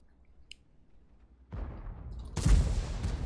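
An E75 heavy tank in World of Tanks fires an explosive shell, landing as two loud, sharp blasts with a rumbling tail, the second heavier, after a quiet lead-in.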